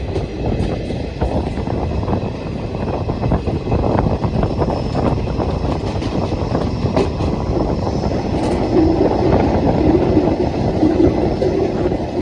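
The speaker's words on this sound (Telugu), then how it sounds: "సౌండ్ ఏనండి మీరు, ఖాళీ ట్రైన్ సౌండ్" An empty passenger train runs past at speed, a loud, steady rumble with rhythmic clickety-clack of wheels on the rails and a faint wheel squeal, with no voices.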